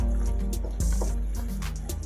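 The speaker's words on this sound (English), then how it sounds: "I have to stir it so that it will go in there." Nigerian jollof rice is stirred in a pot, giving wet, squelching scrapes and soft splatting in a slow uneven rhythm, close and moderately loud over a low steady hiss.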